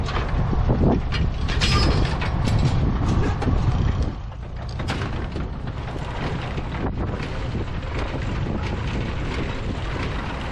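An International Harvester binder pulled by a Farmall H runs with its canvases installed, giving a continuous busy mechanical clatter and rattle with heavy wind noise on the microphone, steady throughout.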